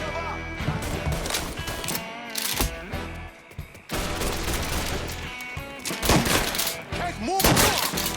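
Gunfire rings out during Mafia III gameplay on Xbox Series X, dense shots and bursts mixed with game music and shouting voices throughout.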